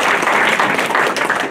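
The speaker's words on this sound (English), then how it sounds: "Let's give her a round of applause." An audience applauds at a 100th birthday celebration, a dense burst of clapping from many hands that stays loud and sustained throughout.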